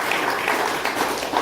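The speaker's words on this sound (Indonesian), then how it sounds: "kita tepuk tangan dulu" Audience at an Indonesian village official ceremony applauds steadily, a dense continuous clapping from a crowd with no talk over it.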